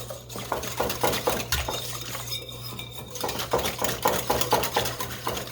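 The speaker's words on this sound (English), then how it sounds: "So I'm just going to use this whisk" Batter for a saucy lemon pudding cake being whisked by hand in a bowl, a quick, steady run of close, rhythmic clinking strokes over a low background hum.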